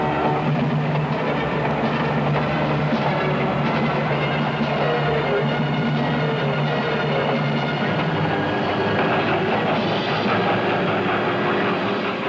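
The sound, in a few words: train of boxcars rolling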